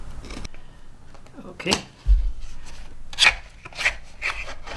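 A pen knife scrapes and slices through the packaging of an UltraStudio Mini Recorder in short rough strokes, with a few scratchy bursts and a soft thud, as someone speaks briefly.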